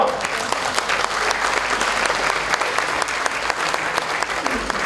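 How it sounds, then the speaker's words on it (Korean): Loud, sustained applause from a large audience at a party rally and joint candidate speech event for leadership and supreme council seats, steady dense clapping filling the whole stretch with no pause. "우리 큰 박수로 한번 격려했으면 좋겠습니다."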